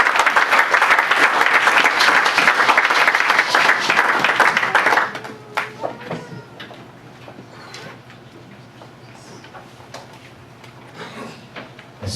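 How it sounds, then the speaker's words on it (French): A church congregation claps loudly and steadily for about five seconds, then the applause stops abruptly, leaving scattered claps, knocks and quiet room noise. "Sous nos acclamations"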